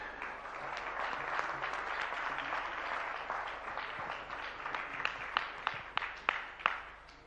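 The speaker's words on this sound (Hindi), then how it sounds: "इसलिए और जोरदार तालियां।" An audience at a Hindi-language religious gathering applauds steadily, with loud, sharp individual claps standing out near the end, over some faint background voices.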